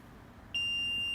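A single high electronic beep from a DTF heat press signaling it has finished starts abruptly and holds as a steady, clear tone until the end.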